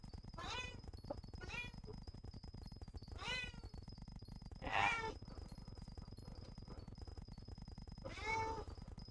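A house cat meows about five times in separate, fairly loud calls spread across the stretch, over a steady low background hum.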